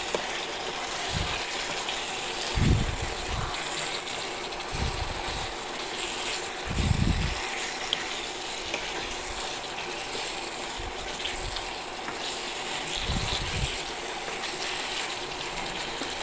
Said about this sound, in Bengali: মশলার সাথে মিশিয়ে নিচ্ছি।